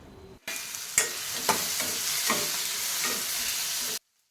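Capsicum, tomato and coconut sauté in a hot pan for chutney, making a loud, close, continuous sizzle with a few sharp spatula scrapes. The sound starts and stops abruptly and no one speaks.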